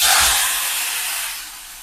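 A loud, bright hiss of cauliflower sizzling in hot oil with turmeric, strongest at the start and easing slightly as it continues.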